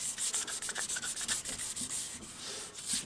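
Fine abrasive grit, around 2000, is wrapped around a mandrel and polishes a workpiece, making a soft, hissy rubbing that pulses in quick repeated strokes, then smooths out. It sounds close but quiet, with no voices.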